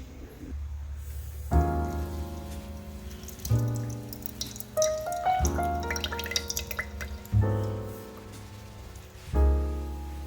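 Water from a kitchen tap runs and splashes as hands are rinsed at a sink, with short bursts of flow and clattering drips repeating every two seconds or so, close by and with no talking.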